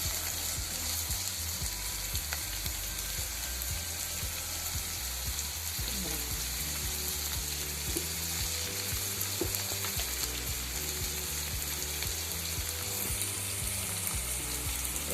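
Onions sautéing in a pan for a homemade Tamil-style chicken fry, giving a steady close sizzle with occasional stirring scrapes throughout and no voices.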